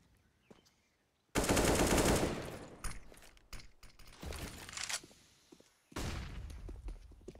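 Gunfire in CS:GO during a professional match on the Inferno map, with loud sustained automatic bursts, scattered single shots and clicking weapon mechanics, close and sharp, then another burst near the end.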